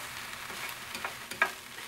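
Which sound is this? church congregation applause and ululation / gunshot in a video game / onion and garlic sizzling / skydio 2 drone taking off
onion and garlic sizzling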